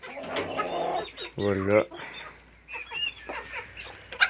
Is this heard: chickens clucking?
yes